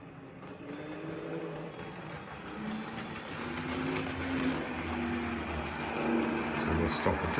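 A Tri-ang Hornby Blue Pullman diesel multiple unit model train runs on a layout with a steady whirring motor hum and faint rolling clatter that slowly grows louder, while people talk over it.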